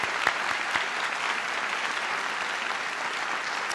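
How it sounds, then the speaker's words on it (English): Steady, dense applause from a convocation audience at Hastings College honors ceremony, sustained and even throughout with no talk. "please join me in giving a round of applause for her many contributions to Hastings College"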